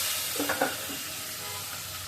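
Fish frying in a kadai, turned over mid-fry: a steady close sizzle with a brief clatter and scrape of the flip, then the hiss continuing evenly; no talking.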